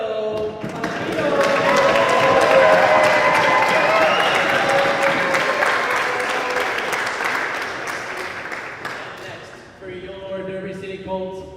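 Applause from the crowd at a National Squash League match as a player from Colombia is introduced, a dense sustained burst of clapping that slowly fades over about nine seconds, followed by an announcer speaking.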